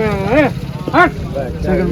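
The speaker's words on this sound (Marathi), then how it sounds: "बाजारात म्हैस आलेली 1 नंबर क्वालिटीची म्हैस" Two loud, close moos from a Jafarabadi water buffalo, then a shorter lower call, over a noisy background of distant voices at a buffalo market in Malegaon.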